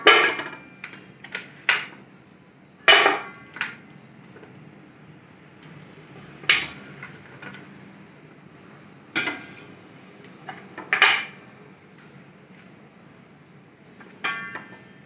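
Several sharp clinks and knocks ring out one after another as mutton trotters drop into a metal cooking pot on the stove, with quiet pauses between them.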